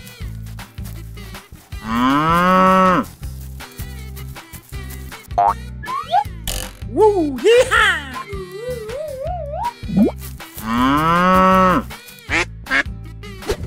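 A cartoon cow moos in long, loud, tonal calls, heard two or three times with bursts of playful boing-like effects and squeaky sounds in between, over a steady background tune.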